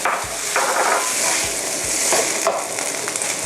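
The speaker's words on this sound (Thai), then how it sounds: "ผัดพอให้เข้ากันค่ะ" Glass noodles and pickled cabbage being stir-fried in a hot pan: steady loud sizzling throughout, broken by a few soft scrapes and taps of the utensil against the pan.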